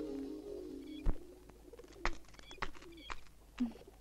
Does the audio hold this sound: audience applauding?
no